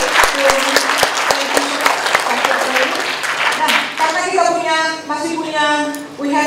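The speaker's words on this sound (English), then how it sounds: "Baik, kita berikan give applause." Audience clapping at a national seminar on blended librarianship, with dense applause filling the first seconds while a voice talks over it, then the clapping thins out and speech takes over.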